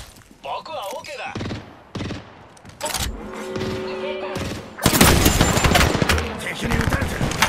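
Bursts of rapid gunfire and heavy thumps from enemies in the video game Apex Legends, growing louder and denser toward the end, with a voice speaking briefly in between.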